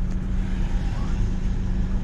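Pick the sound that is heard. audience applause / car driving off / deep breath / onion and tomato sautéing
car driving off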